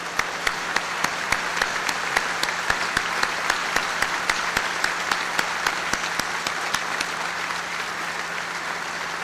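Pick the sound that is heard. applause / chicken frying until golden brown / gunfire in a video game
applause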